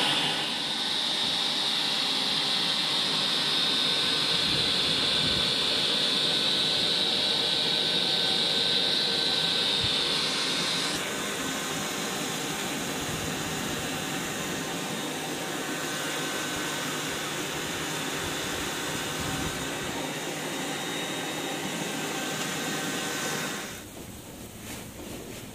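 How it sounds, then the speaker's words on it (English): Homemade charcoal forge with an air blower roaring steadily while melting zinc, a loud continuous rushing hiss that drops slightly in tone partway through and quiets near the end. "Air goes in, fire comes out, and zinc melts in the middle."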